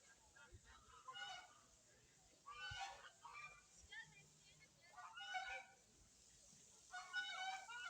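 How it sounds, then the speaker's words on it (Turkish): Several geese at a farm animal park honk in short bursts at a distance, a few calls at a time with quiet gaps between, faint voices murmuring underneath. "Kazlar."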